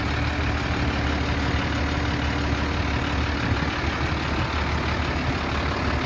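A 1988 Ford F-800 crane truck idles with its PTO engaged, a steady, close diesel rumble holding even and unbroken throughout with no voices.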